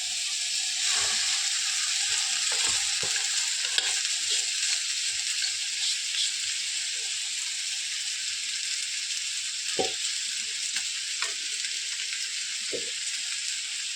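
Steady close sizzle of masala frying in a pan as noodles are added for a chicken noodle dish, with a few louder crackles and stirring knocks scattered through the continuous hiss.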